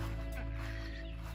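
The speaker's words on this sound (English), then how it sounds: "Look at all the chickens, holy cow." Chickens clucking together in a steady background murmur, with a constant low hum running underneath.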